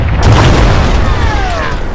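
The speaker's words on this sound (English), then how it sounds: "Yes, the AAA as well. Destroy the Tunguska." Video game explosion as a Tunguska anti-air vehicle is destroyed, a loud deep boom with a rumbling tail that fades over nearly two seconds, close and dominant with no talk.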